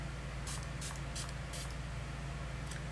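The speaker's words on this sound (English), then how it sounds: "This Prami setting spray to just set everything onto my" A setting spray misted onto the face gives several short hissing bursts in quick succession over a steady low background hum, close and fairly soft.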